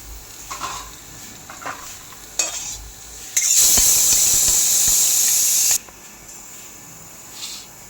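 Prawn malai curry in a rich oily gravy is tipped and scraped out of the hot pan. Scattered clinks come first, then a loud, steady hissing, sizzling rush lasts a couple of seconds before dropping back to quiet kitchen noise.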